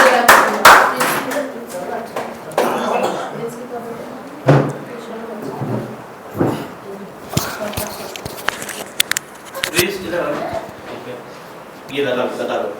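A church congregation at a prayer hall claps in scattered bursts, mixed with a speaker talking and occasional knocks and shuffling nearby.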